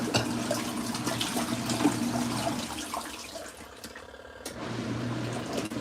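An LG ThinQ MEGA Ultimate washer runs with water, giving a steady splashing and sloshing wash under a low hum. The flow dips briefly near the end, then resumes.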